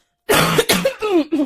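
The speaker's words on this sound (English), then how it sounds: "I'm so sorry for coughing." Several harsh coughs and throat-clearing bursts in a row, close and loud, from a person recording a podcast, with short gaps between the spasms.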